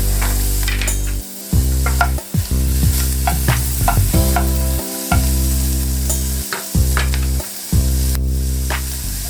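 Chopped peppers stir-fried in a pan for Cajun shrimp pasta, giving a loud, steady sizzle broken by repeated scraping strokes of a utensil and a few brief pauses as they are tossed.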